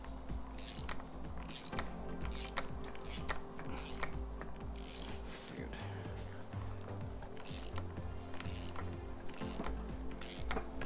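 A steering-wheel-style puller is worked with a ratchet to pull a gear off an R150 4WD transmission, producing quiet, rapid, rhythmic ratchet clicks in repeated strokes at close range.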